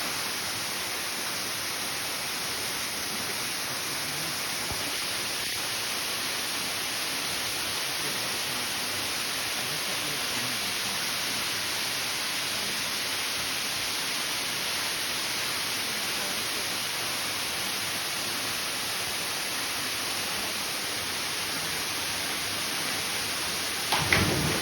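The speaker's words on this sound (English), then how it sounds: "If it's the rain, sort of a lot of rain" Heavy rain falls in a jungle near a waterfall in the Dominican Republic, a dense, even hiss lasting the whole stretch, with a faint knock near the end.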